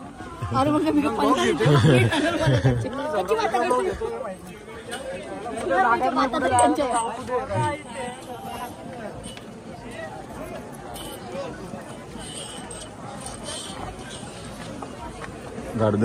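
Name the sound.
crowd at Ekveera palki procession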